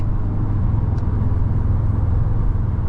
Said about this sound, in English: the turbo sounds are just really aggressive